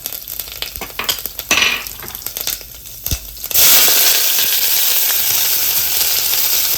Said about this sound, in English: So I'm going to put the mustard seed first. You see how it spatters